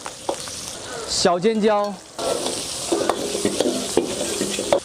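Cured pork stir-frying with ginger, scallion, garlic and chili in a wok, a bright steady sizzle with scraping stirs, briefly interrupted by a short spoken phrase, close and clear.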